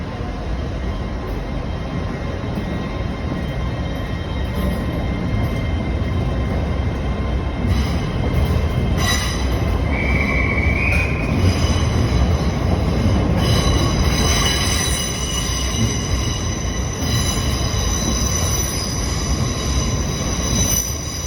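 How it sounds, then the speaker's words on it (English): An LNER Azuma Class 800 train departs Newcastle station, wheels rumbling and squealing on the rails, with a steady roar and shrill flange squeal rising midway; no talking. "got this train leaving for, I think it's the 12:55 LNER service to Aberdeen."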